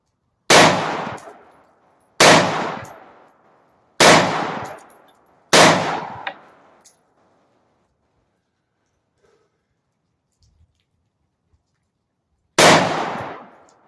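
Gunfire at an outdoor shooting session: four sharp, loud shots spaced about a second and a half apart, then a long quiet stretch before one final shot, each with a short decaying echo.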